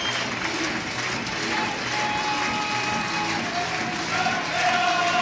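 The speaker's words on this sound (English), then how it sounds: "The shout goes, the cheer goes up, Championes." Football crowd roaring and applauding at a full-time league title celebration against Livingston, a dense, steady wash of cheers and clapping throughout, fairly loud and continuous with no distinct voices standing out.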